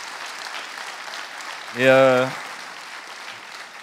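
Steady applause from a conference audience at a session on critical thinking and health, a dense, even wash of clapping that runs the whole time, with a short spoken word from a nearby voice breaking through midway.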